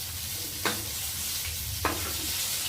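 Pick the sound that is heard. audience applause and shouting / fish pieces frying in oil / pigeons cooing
fish pieces frying in oil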